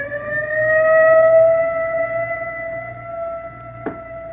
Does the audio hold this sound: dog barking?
no